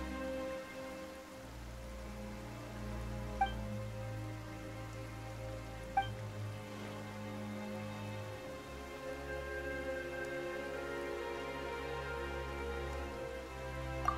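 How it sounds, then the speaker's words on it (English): Rain falls steadily in the video game Genshin Impact, a soft continuous patter on surfaces beneath quiet game ambience with a couple of faint chime-like tones, no voices. "it raining all of a sudden?"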